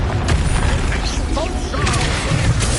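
A Confringo blasting spell goes off in the Hogwarts Legacy video game, a dense, booming burst that rumbles through several seconds of busy combat noise and crackling effects.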